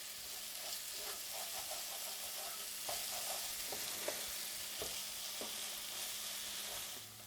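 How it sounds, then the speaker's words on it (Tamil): Tomatoes frying in oil while a ladle crushes them against the pan for chicken thokku, a quiet even sizzle with intermittent scraping and pressing knocks spread across the clip. "நீங்கள் கரண்டி வச்சு நல்லா தக்காளியை நசுக்கி விட்டால் நல்லா சீக்கிரமாக நசுங்கி நல்லா வதங்கிடும்"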